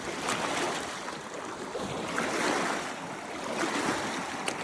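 Rough sea waves wash and surge in a continuous broad roar, swelling and easing gently, with wind noise mixed in and no voices.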